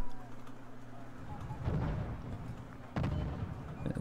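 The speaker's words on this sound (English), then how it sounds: "mortars are mortaring already" Distant mortar fire in a real-time strategy game match, two heavy low thumps with rumbling tails around 1.6 and 3 seconds over a steady background hum.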